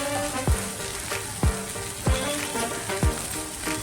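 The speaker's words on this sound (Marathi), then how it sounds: "धना पावडर भाजून घेऊया त्याबरोबरच हळद" Turmeric and coriander powder roast in a pan for a Marathi-style soybean sabzi, a steady close sizzle broken by four sharp knocks of a spoon against the pan, with no talking.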